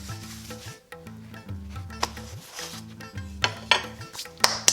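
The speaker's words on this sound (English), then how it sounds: "I'm going to take off the stove while I roll out the next dough" A metal tawa griddle pan is handled and lifted off a stovetop while paratha is being cooked, giving several sharp clanks and scrapes spread through the clip over a steady tonal background.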